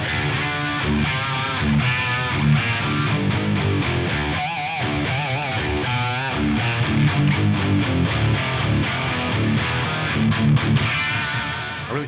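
A thick, heavily distorted electric guitar through a Fractal FM9 on a 5153 Stealth amp model plays chugging riffs and sustained chords, loud and saturated throughout, with no voices.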